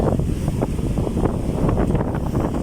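Sea surf and gusting wind at a river mouth where the river joins the sea, a steady roar of breaking water with wind buffeting the microphone throughout, no voices.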